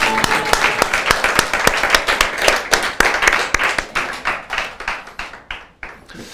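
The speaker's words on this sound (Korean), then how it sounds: "박수로 하나님께 영광을 올려드립니다." A church congregation claps in unison with a steady rhythm at an Easter Sunday service, strong at first and gradually tapering off toward the end.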